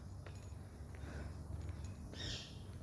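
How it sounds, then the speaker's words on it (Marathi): Birds call from the forest along the paved road up to Karnala fort, a few faint, brief chirps over a steady, low outdoor hum, with a slightly clearer call near the end. "पक्ष्यांचा आवाज"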